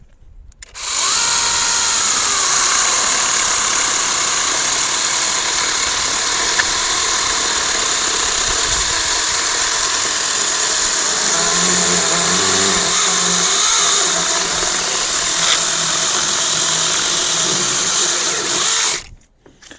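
A cordless 900W brushless mini electric chainsaw with a 6-inch bar cuts through a branch over six inches thick, giving a loud, steady high-pitched whine that runs continuously for about eighteen seconds and then stops.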